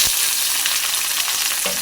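Onions hit hot mustard oil spiced with bay leaf, cinnamon and cardamom, and a loud, steady sizzle and crackle of frying follows, close up.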